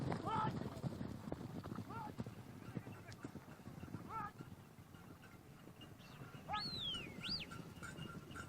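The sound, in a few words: horses galloping on grassland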